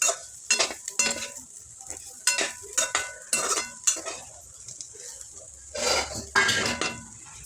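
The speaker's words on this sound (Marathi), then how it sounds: "हळद घातल्यानंतर भाजी व्यवस्थित मिक्स करून घ्यायची आहे" A spoon stirs turmeric into onion and bitter gourd sabzi in a pan, with repeated metallic scrapes and clinks at an irregular rhythm over a soft, close sizzle.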